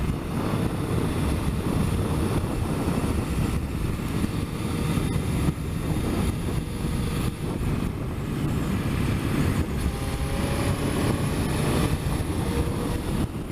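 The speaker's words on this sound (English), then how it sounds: "Jesus, it's windy." Strong wind buffets the microphone during a motorcycle camping trip, a broad, steady roar with gusty surges that fills the whole stretch, loud and close, with no talk.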